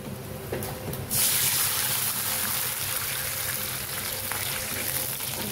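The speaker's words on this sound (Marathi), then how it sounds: "आता याच्यात पाणी टाकून घेणार" Water is poured from a small bowl into a cooking pot holding peanuts for a peanut curry, a steady close gush that starts abruptly after a few light knocks and continues loud and even to the end.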